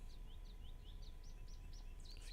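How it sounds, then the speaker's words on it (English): Birds sing in a Decentraland virtual world scene, a run of short, bright chirps repeating at an even pace over a steady background hiss, with a denser flurry of calls at the end. "let me get rid of the birds here that are singing in the Decentraland scene"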